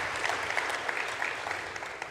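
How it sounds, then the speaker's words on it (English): Steady applause from a conference audience at an opening session, dense and continuous for about two seconds without any speech. "one more round of applause for Coach O and Coach Hendo and our students"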